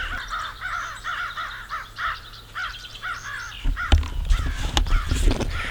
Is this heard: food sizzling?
no